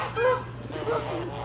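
Geese honk near a spot where ducks, geese and peacocks are being fed bread: two loud, close honking bursts, the second followed by softer calls, over a steady low background hum.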